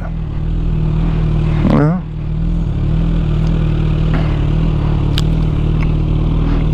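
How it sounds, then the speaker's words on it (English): A 2022 Suzuki Hayabusa revs sharply during a downshift, a quick rising engine blip over steady loud engine and wind roar while riding through city traffic; a voice says a word briefly. "I like giving it a little bit more gas to downshift"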